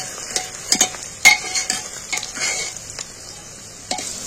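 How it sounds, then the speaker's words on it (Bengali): Onions stirred and fried in a pan for dum mutton, with intermittent scraping clatters of a spoon against the pan over a soft sizzle, close and moderately loud, no talking. "একে এইভাবে নেড়ে নেড়ে ভাজা করতে হবে"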